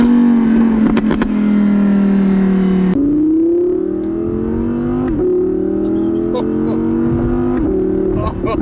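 A 2018 Audi R8 RWS, rear-wheel drive, revs loudly up and down through the gears with a steady engine drone, short sharp exhaust crackles near the end, and people talking over it inside the car.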